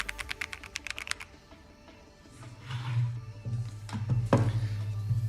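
Typing on a heavy computer keyboard that sounds good out of the box, starting as a quick run of sharp keystrokes and then going on as softer clicks over a low hum.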